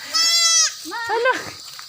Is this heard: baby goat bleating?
yes